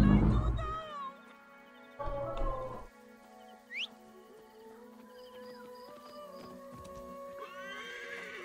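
A horse in the video game Assassin's Creed Origins whinnies loudly and clearly, and hoof clops follow. Game voices speak briefly at the start and near the end.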